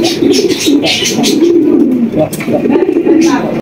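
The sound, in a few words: pair of racing pigeons cooing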